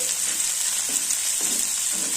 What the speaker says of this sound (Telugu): పోపు వేగినాక పచ్చిమిరపకాయలు వేయించుకోవాలి